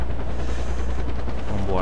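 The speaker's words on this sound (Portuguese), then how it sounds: "Olha o helicóptero." A helicopter in Far Cry 4 drones loudly with a heavy low rotor throb and a rising whine toward the end, mixed with game noise and some speech.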